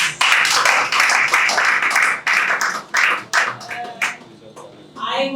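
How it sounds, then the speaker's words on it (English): Loud round of applause from an evening celebration audience, dense clapping with cheering voices mixed in, easing off near the end as a voice briefly comes through. "Please, I would like you all to give yourselves a round of applause."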